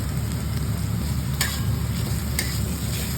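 Chopped tomato with cumin powder and chili powder sizzles steadily in a hot pan as it is stirred, a loud, continuous frying hiss with a couple of sharp scraping clicks of the spoon.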